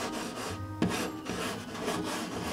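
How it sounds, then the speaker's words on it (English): Claws drag and rub against a wooden door in a steady, close rasping scrape, with one sharper knock partway through. "And no scratching the door either"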